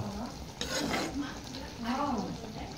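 Chopped onions drop into hot oil in a pan and sizzle steadily at moderate volume, with scraping stirs of a spoon against the pan breaking through the frying hiss.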